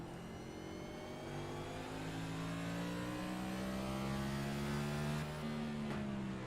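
A NASCAR Cup race car engine in a racing game at Martinsville, heard from the cockpit as a steady, sustained mid-pitched drone that slowly rises in pitch, loud and alone with no talk over it.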